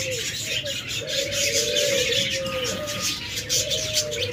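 A lovebird offered for sale at a pet bird shop calls in a run of repeated, steady tonal notes over a constant background hiss.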